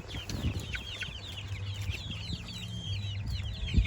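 Farm chickens cluck and chatter in soft repeated calls outdoors, moderately distant over a low steady hum, the clucks overlapping in an irregular flock rhythm with no talk.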